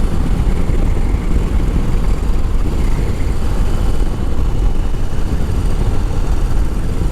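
A vehicle cruises at 60 mph in fifth gear at about 2,450 RPM, giving a loud, steady low rumble of engine and road noise with strong wind buffeting and no pauses.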